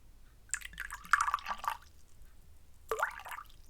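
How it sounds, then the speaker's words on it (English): Water is poured from a bottle into a glass in two short, quiet bursts of splashing and gurgling, with a pause between them. "see if we can hear the sound the water makes when they pour out of the bottle too"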